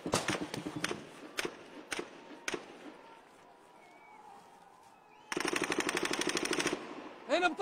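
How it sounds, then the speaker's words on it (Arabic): Heavy live gunfire during clashes in the town of Silwad, with scattered single shots, a quiet pause, then a loud rapid automatic burst and more shots at the end. "اطلاق كثيف للرصاص الحي تجاه الشبان"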